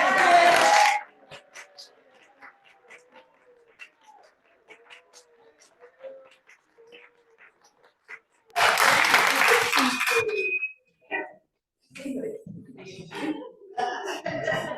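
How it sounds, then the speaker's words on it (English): Audience applause honoring volunteers at a congregation gathering comes in two loud bursts, one brief at the start and a longer one midway, with quiet talking and small sounds in between. "let's all give them a round of applause"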